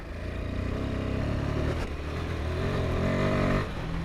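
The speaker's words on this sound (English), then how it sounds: "Bit of wheel spin in third there" A Royal Enfield Himalayan 450 in third gear, its rear wheel spinning on a choppy surface studded with broken brick, a loud sustained engine drone that climbs in pitch and then drops back, heard close.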